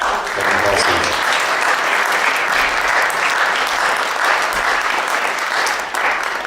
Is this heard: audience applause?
yes